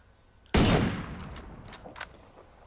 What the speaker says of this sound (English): Let's put a couple rounds downrange.